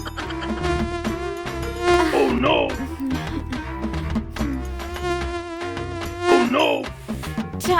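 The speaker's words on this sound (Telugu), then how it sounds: "దోమలు కుట్టేస్తున్నాయి." Mosquitoes buzz indoors at night in winter, a thin whining drone layered with tonal, music-like hums that swell loudly twice before easing back.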